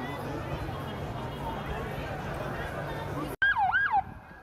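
An ambulance siren wails at the scene of a bomb attack, rising and falling clearly for about a second after a sudden cut from a dense, noisy background.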